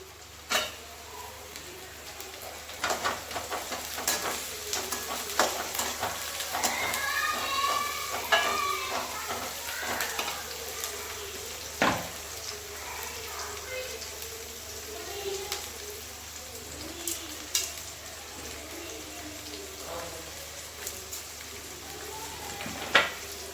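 Green chillies and tomatoes frying in a pan for chicken gravy, with a soft ongoing sizzle broken by scattered scraping and clinking stirring strokes, close and moderate in level.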